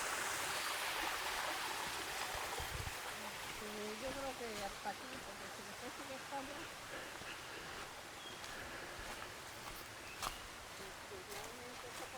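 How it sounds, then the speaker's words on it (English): Water rushing over a river aeration fall in Ponce, Puerto Rico, a continuous broadband roar with a person talking briefly over it. "It's not a waterfall, it's an aeration fall"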